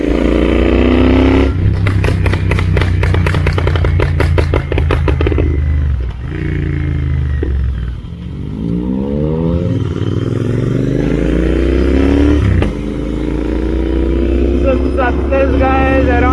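A group of about ten to twelve motorcycles on a night ride, engines droning loudly and close with repeated revving swells and shifting pitch as bikes accelerate and pass, fluttering exhaust rattles in stretches.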